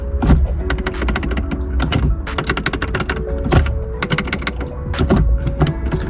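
Short shifter in an Acura RSX being worked through the gears, a rapid series of close mechanical clicks and clunks in bursts over a low idling hum inside the car.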